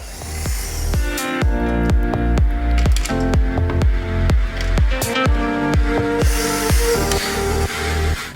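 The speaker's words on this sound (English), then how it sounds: "Now we need to screw out the cables first." Ratcheting clicks of a hand tool unscrewing power cables from a rental LED screen power supply, fast regular close-up clatter throughout with brief pauses and a few sharper snaps.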